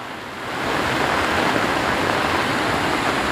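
A small stream swollen into a river by heavy monsoon rain in Konkan roars steadily as muddy floodwater rushes past, a dense, loud broadband wash that swells in the first half second and then holds constant.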